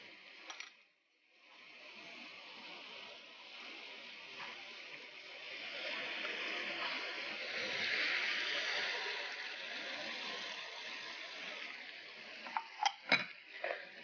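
Spiced meat for bhuna gosht being stirred and roasted in a pan: a steady low sizzle under scraping of a spoon against the pan, with a few sharper metallic taps near the end.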